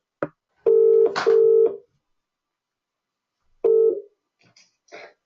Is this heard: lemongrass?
no